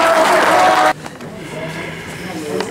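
Spectators at an outdoor hunting-hound pack competition break into a loud burst of applause that cuts off abruptly after about a second, leaving quieter ambience and talking.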